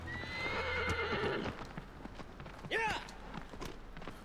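A horse in Shadow of the Colossus clip-clops along with steady hoofbeats, then lets out one sharp whinny near the middle, all heard close over a low game soundscape.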